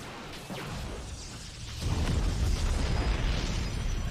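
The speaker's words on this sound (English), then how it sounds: "And the wall has now been breached" A base wall blasts open in a StarCraft match, a broad rumbling explosion swelling in about halfway through and holding loud and dense over a whooshing, crackling bed of battle noise, with no talk.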